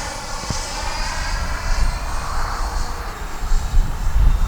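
A Freewing F-86 radio-controlled model jet, repaired after a crash, flying at full speed, its electric ducted-fan whine loud and sustained outdoors, with the roar swelling as it passes nearby.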